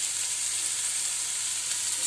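Chopped onion sizzles in hot oil, a steady, even hiss heard close up and alone for a couple of seconds.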